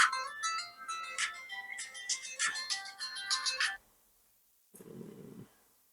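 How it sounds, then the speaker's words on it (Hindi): A mobile phone rings with a bright, repeating melodic ringtone for several seconds, loud and close, then stops; a short low rumble follows after a pause. "इसी बीच बीच में ये फ़ोन आता है, तो काम के समय फ़ोन डिस्टर्ब करता ही है।"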